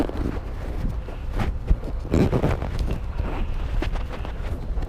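Wind buffets a GoPro's top-mounted microphone fitted with a Windslayer foam cover while skateboarding down a street, a muffled low rumble with rising gusts throughout.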